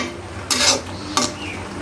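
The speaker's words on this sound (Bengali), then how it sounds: "ঢাকনাটা উঠিয়ে একটু নাড়াচাড়া করে দেব। এটা একটু সময় নিয়ে ভাজতে হবে" Potatoes frying with rohu fish roe in a pan, stirred with two quick metallic scrapes over a faint background sizzle, close by and with no voices.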